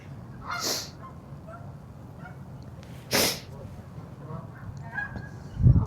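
Geese at a goose pond give two loud, sharp honks, one early and one midway, over a steady outdoor background with a soft thump near the end.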